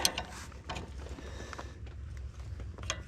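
A ratchet torques down gooseneck hitch bolts on an F350, giving faint, rapid mechanical clicking and scraping in short bursts at a low level.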